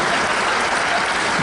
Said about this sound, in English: were you going to give a round of applause for them?